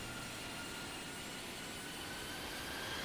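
Airliner jet engines in the Infinite Flight simulator game, a steady broadband roar holding at an even level throughout, with no talk over it.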